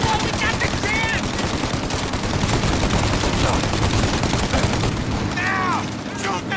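Rapid automatic gunfire from a Mafia: Definitive Edition shootout rattles loud and continuous at close range, dense bursts packed together, with shouted voices cutting in over the shooting.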